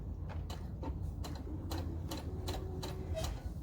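A sewing machine stitches slowly along a fabric edge while a scrunchie is made, a steady train of close, mechanical ticking needle strokes over a constant low motor hum.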